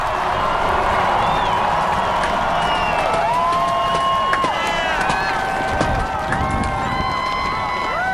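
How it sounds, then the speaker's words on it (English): An immense outdoor crowd on the west front of the Capitol cheers and applauds President Barack Obama after his inaugural address, a steady wash of distant roaring and clapping with some voices rising above it. "The immense crowd salutes and applauds the 44th President, Barack Obama, after that inaugural address on the west front of the Capitol"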